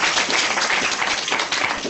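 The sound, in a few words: audience clapping for Hall of Famer Mike Haynes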